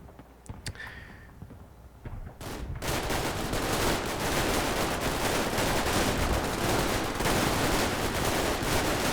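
Simulated company-size battle between US and Italian infantry in a 1943 war game: a few scattered shots, then dense, sustained overlapping gunfire and rattling bursts, loud and continuous to the end.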